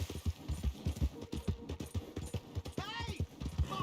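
Hooves clip-clop in a steady rhythm as a horse moves in the Red Dead Redemption 2 video game, with a voice heard briefly over the footfalls.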